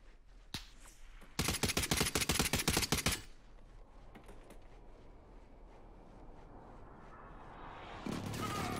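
Gunfire in Warzone: a single sharp shot, then a fast rattling burst of rapid shots lasting about two seconds, followed by quieter scattered distant pops over low ambient game noise.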